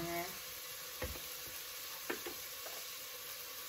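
Cumin sprinkled into a soup pot of ginger sweet potato, coconut milk, lentils and kale, a low steady sizzle with a few soft knocks of a spoon against the pot.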